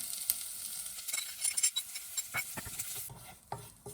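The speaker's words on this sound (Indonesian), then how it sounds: "Harus diaduk-aduk terus ya supaya dia nggak gosong ya" Dry spices including candlenut and coriander frying in a pan for jackfruit lodeh, with a continuous close sizzle and repeated scraping and clinking of a utensil stirring them, and no voices.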